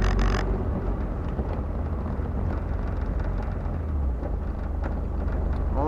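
A manual-transmission car driven by a learner with the gas pedal floored, giving a loud, steady, low engine drone with heavy rumble and no break.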